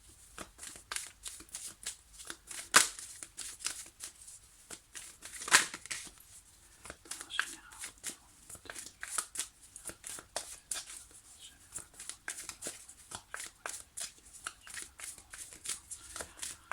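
Tarot cards shuffled for a reading, a steady run of soft close flicks and slides with a couple of sharper snaps, quiet and continuous throughout.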